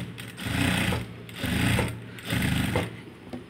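A sewing machine stitching along the neck edge of a blouse runs in three loud bursts of rapid, even needle chatter with short pauses between them, close up and without speech.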